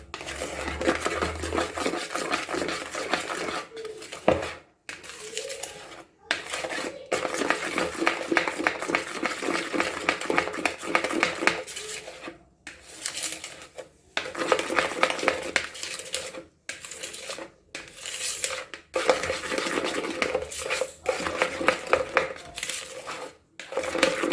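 A spoon or whisk clatters steadily against a bowl while mixing dalgona coffee, producing a close, continuous rapid scraping and tapping with a few brief pauses throughout.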